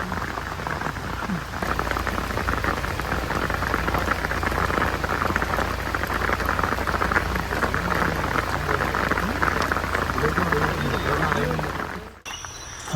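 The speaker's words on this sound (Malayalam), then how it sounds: "അതിൻ്റെ കൂടെ നല്ല ആർത്തലച്ച് പെയ്യുന്ന മഴയും കൂടെ ആകുമ്പോഴത്തേക്കും വാവ്." Heavy monsoon rain pours steadily in the Kabini forest, a dense close hiss of drops on leaves and ground, with voices talking under it before it cuts off near the end.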